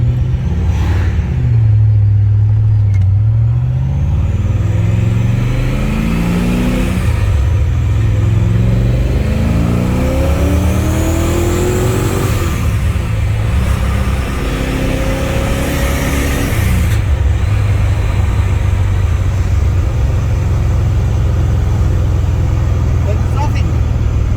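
An LS1 V8 car engine runs steadily with a low rumble and occasional rising revs, close and continuous throughout while someone talks over it.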